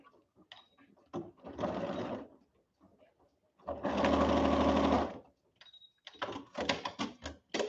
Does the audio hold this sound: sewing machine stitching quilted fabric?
yes